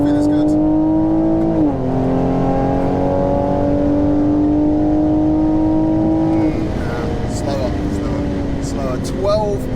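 A stage 1 450 bhp Audi RS3 accelerating hard in a drag race against a stage 2 460 hp Toyota Supra: a loud, sustained engine drone rising in pitch, with a shift near two seconds and another later, heard from inside with a voice over it.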